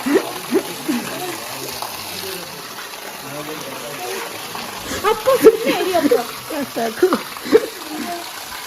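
Water is poured and splashes in irregular bursts, growing louder and busier toward the end, while people talk over it.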